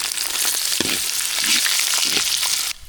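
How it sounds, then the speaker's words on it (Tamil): Mustard seeds crackle and sputter in hot oil, a dense steady sizzle with scattered pops, close up, ending abruptly. "கடுகு நல்லா பொரிஞ்சிட்டு"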